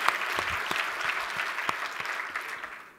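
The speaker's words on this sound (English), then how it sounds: "yes, a round of applause for that" A conference audience at a teachers' summit claps in a sustained, dense round of applause, steady and fairly close, with a few sharper individual claps standing out and fading slightly at the end.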